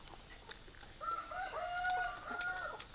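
Chickens call in the open while a steady high insect-like whine runs behind them. A rooster crows with long drawn-out notes, and scattered clucks come from other chickens at a moderate distance.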